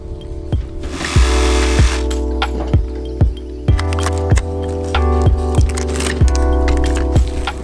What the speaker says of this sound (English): I'll put my jigsaw blade through the hole and start cutting around, cutting along the inside of my template line.